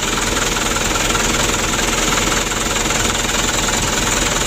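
A motorcycle engine runs steadily after carburetor tuning, a loud, continuous mid-pitched idle with a slight knocking rumble and no pauses throughout.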